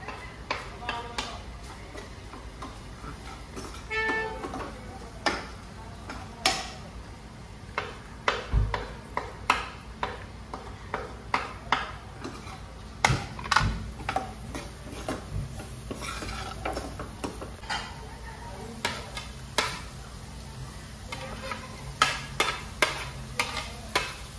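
Masala and green chilli are stirred and fried in a pan, with a soft background sizzle and repeated sharp clinks and scrapes of a spoon against the pan.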